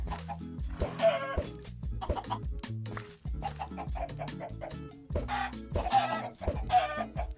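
Minecraft chickens on a chicken farm, clucking repeatedly in short, loud bursts that overlap and continue throughout.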